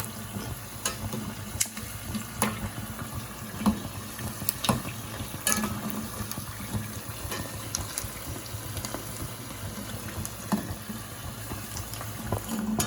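Paneer manchurian frying and being stirred on low flame, a continuous soft sizzle punctuated by repeated scraping and clinking of a spoon against the pan.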